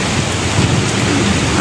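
Heavy rain pours down during a storm, a dense, loud, constant downpour with low rumbling underneath, close and continuous with no break.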